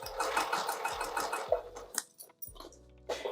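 A sewing machine stitches a fabric pouch at a scant quarter-inch seam, running in a quick, steady rhythmic chatter. It pauses with the needle down and then starts again in short bursts, with soft fabric handling in between.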